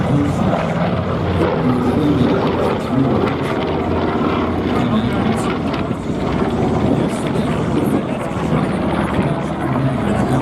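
Engines of a B-25 bomber in flight at the 2019 New York airshow, a loud continuous propeller drone that holds steady throughout, heard from nearby.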